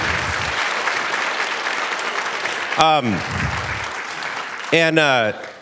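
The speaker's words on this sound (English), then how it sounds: "let's just start with a big round of applause for everybody" A big round of applause from the audience at a Hayward volunteer awards and recognition event, with steady crowd clapping throughout and two brief, whistle-like sweeping tones cutting through near the end.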